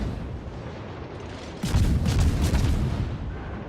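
A warship's guns fire in a naval video game, a deep booming burst rising out of steady background rumble and rolling on for over a second before easing off.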